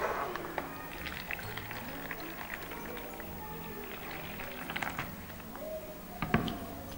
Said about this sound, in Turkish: Leğenimizin içine biraz su döküyoruz.